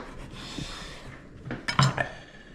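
A knife cuts pork skin braciole in half, giving a brief scrape and then a cluster of close metallic clinks against the board or dish near the end.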